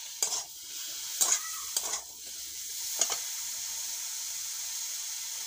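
Water hyacinth greens with a little salt and turmeric frying in a pan, a steady bright sizzle with a few stirring scrapes near the start.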